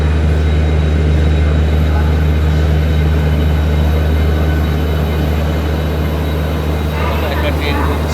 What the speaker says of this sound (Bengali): একটা ট্রেন ঢুকছে এখানে, লোকাল ট্রেন মনে হয়।